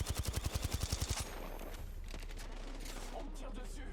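A rapid burst of automatic gunfire in Apex Legends, about a dozen sharp evenly spaced shots lasting just over a second, then faint game ambience and scattered distant sounds.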